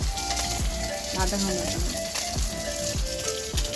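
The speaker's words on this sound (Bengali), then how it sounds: "আর এটা দেখো মাছ ভাজছি" Fish frying in a pan with oil during home cooking, a steady close sizzle and crackle with clinks of a utensil stirring, while a person speaks briefly over it.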